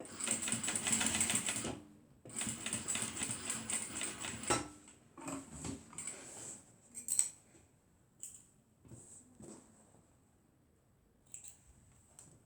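A sewing machine stitching a fabric waist bag, two loud rapid bursts of needle chatter with a short break between, then fainter scattered ticks and shuffling handling noises as the sewing stops.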